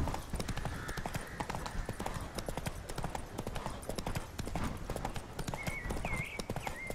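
Horse hooves clip-clopping steadily in a fast, even rhythm while riding in the video game The Witcher 3, close and prominent, with a brief neigh-like tone near the end and faint voices in the background.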